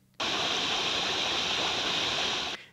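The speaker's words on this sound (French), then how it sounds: "On peut aussi admirer un petit cours d'eau." A small park stream flows in a steady, close, continuous rush of water, starting abruptly and holding at an even level throughout without pause or voices.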